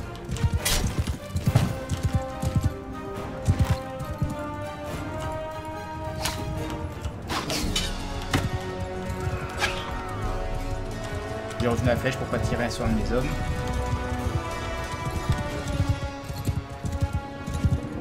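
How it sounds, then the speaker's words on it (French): Cavalry horses charge into a melee in Mount & Blade II: Bannerlord, with hooves thudding amid clashing weapons and battle noise, while someone talks over the fighting throughout. "on voit que la cavalerie a chargé dès que l'ennemi est arrivé au contact"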